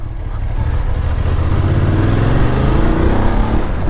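A BMW F850 GS motorcycle, 2020 model, rides along a road, its engine giving a loud, steady mid-range drone with a slight rise in revs, close to the microphone and blended with wind.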